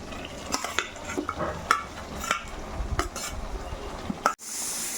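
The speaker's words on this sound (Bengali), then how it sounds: "এবারে আমি একটু ভালো করে নাড়িয়ে নিচ্ছি এই সময় গ্যাসের ফ্লেমটা কিন্তু হাই থাকবে" A spoon stirs chicken curry in a pan over a high gas flame, with irregular scraping strokes and light clinks over a background sizzle, close by and without speech.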